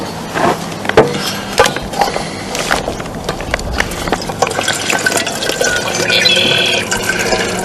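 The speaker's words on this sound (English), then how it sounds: "Next, we're going to get some water," Water being poured into a Pathfinder stainless steel coffee pot at an outdoor campsite, a continuous splashing fill with scattered metallic knocks and clatters, fairly loud and close throughout.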